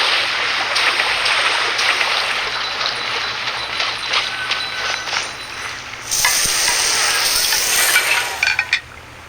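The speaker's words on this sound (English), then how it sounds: "Let's head back to land and grill them." Fresh-caught fish grilling in the Genshin Impact video game, a steady bright sizzle that grows louder and fuller partway through, with light clinks near the end and no talk.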